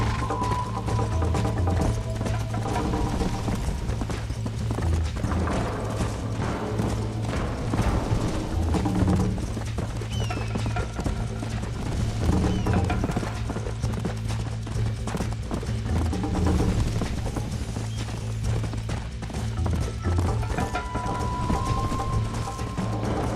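Horse hooves clip-clop steadily and continuously in a video game, a dense close rhythm of hoof strikes over rumbling game sound, with no talking.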